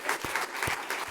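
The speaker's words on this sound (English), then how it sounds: "Let's give Slack a round of applause." An audience at a business talk claps steadily, a dense wash of applause with a few heavier individual claps, moderately loud and without speech.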